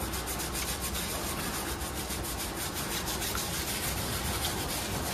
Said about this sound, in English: You just gotta scrub it up.